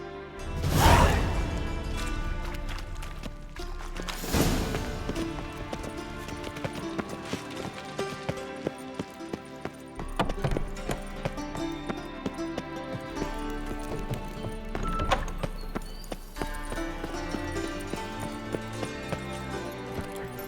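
A horse gallops in The Witcher 3: Wild Hunt, with a steady rapid clip-clop of hooves under a music score, plus a couple of loud low whooshing thumps near the start.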